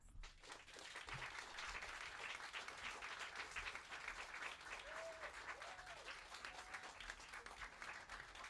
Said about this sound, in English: Please give our guests a round of applause